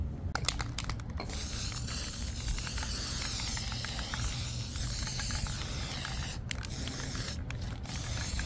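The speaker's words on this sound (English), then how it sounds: "then spray it with the metallic gold" A can of metallic gold spray paint hisses in a long continuous spray close by, with a few short pauses and rattling clicks near the start and end.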